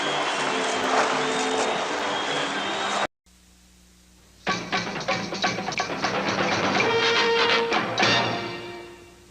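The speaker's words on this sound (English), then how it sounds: "They're getting a good round of applause from their own booster club" A hockey booster club claps in an arena in Peterborough, a brief burst of applause, then a pause, then a louder swell of clapping and crowd noise that fades at the end.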